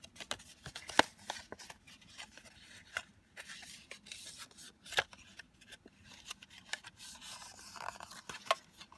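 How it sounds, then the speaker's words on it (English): Scored cardstock is folded along its score lines by hand, producing soft intermittent rubs, crisp creases and paper scrapes at close range, with quiet gaps between the handling sounds. "you're going to fold along all the score lines."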